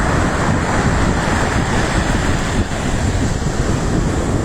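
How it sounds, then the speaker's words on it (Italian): Rough Sicilian sea surf crashing steadily with a constant broadband roar, wind buffeting the microphone throughout; no voices. "il mare è bellissimo anche quando è agitato"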